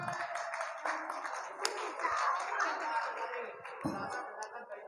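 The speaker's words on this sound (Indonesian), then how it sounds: "Tepuk tangan." Scattered applause from pupils at an Islamic school quiz contest, a brief, fairly faint burst of clapping with a few taps and voices in a hall.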